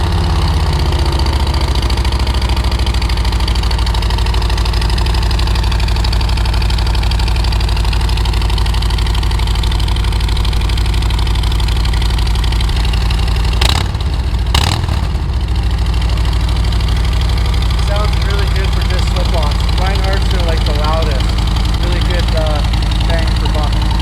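A Harley Davidson Road Glide fitted with Reinhardt slip-on exhausts idles loudly and steadily, a deep rumbling throb that continues unbroken throughout, with a couple of brief sharp knocks midway.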